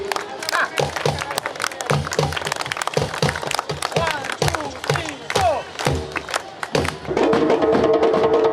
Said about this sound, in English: Put your hands up in the air and clap to the beat.